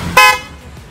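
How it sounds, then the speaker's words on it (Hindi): Hella chrome twin-tone horn set fitted to a modified Maruti Suzuki S-Presso, giving one short loud harmonic honk of about a fifth of a second, then a fading tail, with no talk. "पहले ये बजा के सुना, Chrome twin tone horn set"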